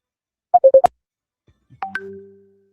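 A phone sounding for an incoming call: a quick run of short electronic beeps, then a brief pause and a longer sustained tone, loud and close with no voices.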